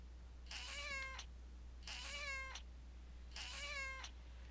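A cat meows three times, evenly spaced, each call clear and drawn out against a low steady hum in a quiet room.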